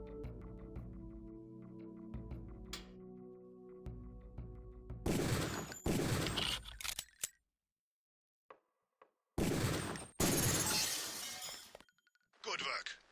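Gunshots crack at shooting-range targets in Deus Ex, two loud dense bursts with breaking, shattering texture and a gap of silence between them, after a stretch of low hum and soft ticking; a voice speaks near the start.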